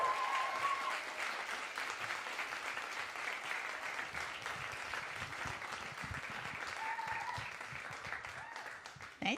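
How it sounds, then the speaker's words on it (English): An audience at a women's reading event claps steadily for several seconds, a dense, even patter of applause with no talk over it. "Thank you, whoever's cheering out there."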